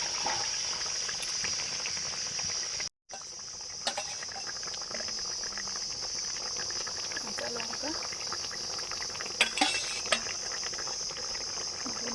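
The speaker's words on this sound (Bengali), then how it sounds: "বোল ফুটে গেছে ভেজে রাখা ভোলা মাছ" Fish curry gravy with fried bhola fish bubbling in a pan, a continuous close hiss and fizz of boiling liquid that runs throughout, with a brief break partway and a few small pops and clicks near the end.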